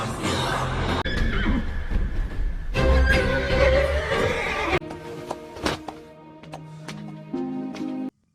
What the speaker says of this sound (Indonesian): Kuda itu berlari sangat kencang